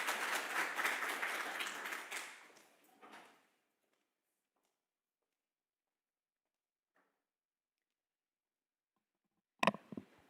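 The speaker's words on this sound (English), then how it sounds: "Please give her a round of applause as she comes up." Audience applause at a youth employability conference as a speaker comes on stage, dense clapping for about two seconds that fades to silence, followed late by a couple of sharp knocks.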